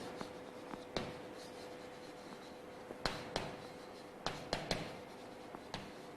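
Pen or marker writing during a maths lesson, soft scratchy strokes with sharp taps at irregular intervals, close and quiet, with no talking.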